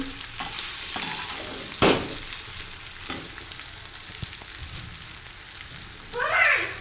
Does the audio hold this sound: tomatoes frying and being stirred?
yes